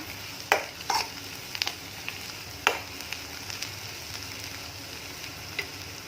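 Chilli powder sautéing in oil for egg curry sizzles quietly, with scattered sharp ticks and scrapes of a spatula against the pan. No one talks.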